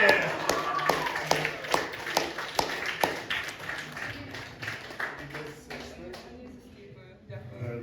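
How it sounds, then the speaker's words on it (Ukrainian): A crowd at a Kharkiv reading event claps steadily for several seconds, the sharp hand strikes thinning and fading out toward the end as voices carry on underneath. "Ваші оплески!"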